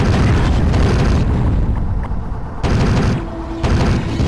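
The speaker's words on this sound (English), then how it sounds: "At least I can blow up these power cons." Power cons blowing up in the DOS shooter Eradicator, loud crunchy explosions rolling in repeated blasts with brief dips between, close and harsh, no talk.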